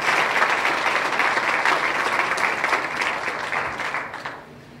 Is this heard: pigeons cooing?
no